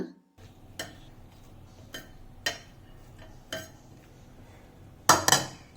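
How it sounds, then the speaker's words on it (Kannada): A spoon mixing chopped onion and coriander into snake gourd raita, clinking against the bowl in spaced, separate taps, then ending in a quick cluster of louder scraping clinks, close and clear. "ಒಂದು ಸ್ಪೂನು ಸಣ್ಣಗೆ ಹೆಚ್ಚಿದ ಕೊತ್ತಂಬರಿ ಸೊಪ್ಪು ಇದಕ್ಕೆ ಹಾಕ್ಕೊಂಡು ಎಲ್ಲ ಮಿಕ್ಸ್ ಮಾಡ್ಕೊಂಡ್ಬಿಡೋಣ"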